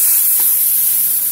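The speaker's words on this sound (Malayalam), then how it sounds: "ആ പുളി വെള്ളത്തിലിട്ട ആ പുളിവെള്ളമാണ്, അതാണ് ഞാൻ ഒഴിക്കുന്നത്." Tamarind water poured into fish curry masala frying in a hot pan gives a loud, steady hissing sizzle across the whole moment, with no voices.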